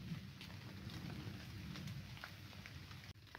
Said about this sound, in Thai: ฝนมันยังไม่หยุด